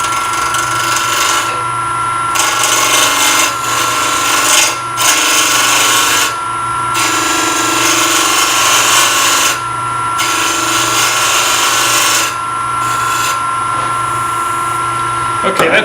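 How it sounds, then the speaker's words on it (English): Wood lathe spinning near 1400 rpm while a bowl gouge cuts a segmented bowl round, giving a loud, continuous whirring hum with a high tone and repeated scraping bursts of the tool against the wood. "I'm going to use my bowl gouge just simply to make this round"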